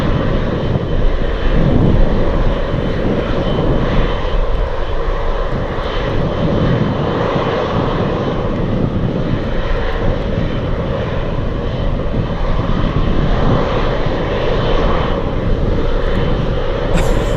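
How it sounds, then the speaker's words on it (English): Lockheed Hercules propeller aircraft on approach at Anchorage in gusty wind, a loud, continuous droning engine rumble that swells and eases slightly over time, heard alone without speech. "The Hercules has returned to the flight path for the approach."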